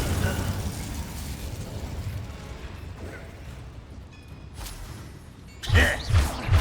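Incendio and Glacius spells cast in the Hogwarts Legacy video game, a rumbling wash of magical effects with muffled blasts, ending in three strong booming bursts close together.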